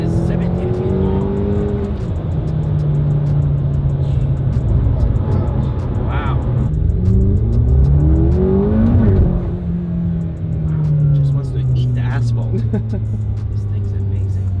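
A 17-foot-long car accelerates hard through corners, its engine droning loud and close with pitch sweeps up and down as it shifts and drives on, a voice speaking over the steady roar.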